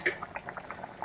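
A Kerala fish molly curry with manjakkoori fish bubbles in a pot, a quiet, steady run of small liquid pops and gurgles heard close up with no talking.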